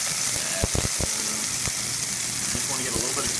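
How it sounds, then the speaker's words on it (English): Gnudi crisping in a hot non-stick pan, giving a steady close sizzle and frying hiss with a few soft knocks and clatters of the pan throughout. "we're going to take the gnudi and we're going to crisp them up in a pan."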